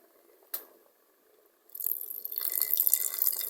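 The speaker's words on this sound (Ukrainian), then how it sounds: "Ще трохи водички." Water is poured into a cooking pot of potatoes with beef stew and mushrooms, starting with a single knock and then a close, rising splashing stream.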